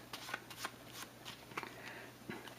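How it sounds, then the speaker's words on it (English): Close, soft riffling and sliding of Fallout board game card decks being shuffled by hand, a series of quick papery bursts repeating every fraction of a second over a faint room hum; no talk. "they're all Vault 84 decks, so we're going to just shuffle them up"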